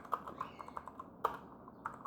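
Code being typed on a computer keyboard, a quick irregular run of light key clicks close to the mic, quiet, with a couple of slightly harder strikes and no talking.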